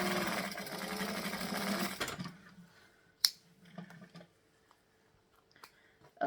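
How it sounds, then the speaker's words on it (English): Close, steady whir of a sewing machine stitching the sides of a fabric bag pocket, running continuously for about two seconds before stopping, followed by faint clicks and handling noises in a quiet room. "now I'm just going to pull the whole pocket piece out of the way and stitch just the sides of the pocket"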